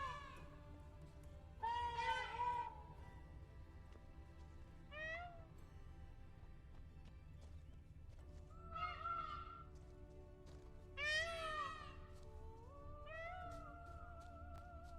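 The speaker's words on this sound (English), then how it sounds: "That sounds like a cat more than a peacock," Peacocks in The Witcher 3: Blood and Wine give several separate cat-like wailing calls, loud and clear over a quiet ambient bed, with pauses between each cry.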